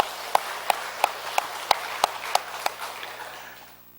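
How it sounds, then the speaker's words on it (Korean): Congregation clapping in unison during a Sunday church service, about eight sharp, evenly spaced claps over a soft background wash before the sound fades away. "하나님께 감사의 박수 하시겠습니다."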